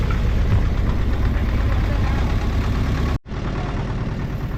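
A boat engine runs with a steady, dense low drone on a boat ride at Poolambatti, holding constant apart from one brief cut near the end before the rumble resumes.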